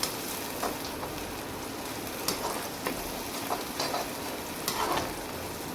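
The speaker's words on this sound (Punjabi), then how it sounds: "ਹੁਣ ਆਪਾਂ ਚੰਗੀ ਤਰ੍ਹਾਂ ਆਪਾਂ ਭੁੰਨ ਲੈਂਦੇ ਹਾਂ" Tomato and slit green chilli tempering roasting in a pan for Rajasthani besan gatte curry, giving a soft continuous sizzle with periodic stirring scrapes and light spoon taps every second or so, close and moderately quiet.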